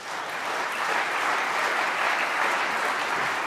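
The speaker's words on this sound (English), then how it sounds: "He's doing well on the applause here" A snooker arena audience applauds after a shot, a dense, even wash of clapping that holds steady throughout and sounds full and moderately distant, with no voices standing out.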